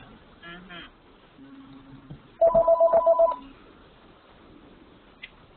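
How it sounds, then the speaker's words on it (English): A phone rings with a rapid burst of repeated electronic trilling tones lasting about a second, fairly loud against quiet room tone during an online discussion, with people talking faintly before it. "That's my phone. Is it your phone or mine?"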